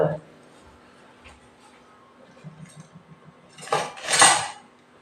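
Dishes and cups clatter and clink near the end, a short burst of handling after quiet background with faint murmuring.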